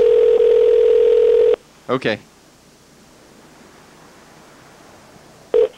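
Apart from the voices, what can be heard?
telephone dial tone and dialing a phone number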